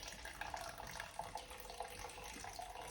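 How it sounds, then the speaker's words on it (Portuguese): Water poured into a biscuit dough mixture during a baking class, a steady close splashing and trickling flow that runs continuously throughout. "a gente vai pôr um pouquinho de água na nossa formulação"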